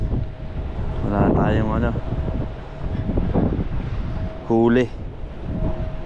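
Strong wind buffets the microphone during shore fishing in New Zealand, a steady low rumble throughout, while people talk over it in Filipino.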